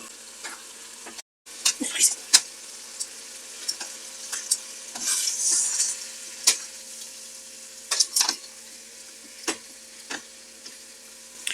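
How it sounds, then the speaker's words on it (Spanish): Chicken thighs sizzle and fry in a pan, a steady close crackle broken by sharp pops and spatters, with a brief gap near the start. "Mientras nuestros muslos se fríen"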